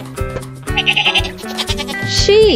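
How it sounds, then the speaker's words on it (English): A sheep bleats in short repeated wavering calls over a bright children's song backing with melodic music, fairly loud and close. "Sheep."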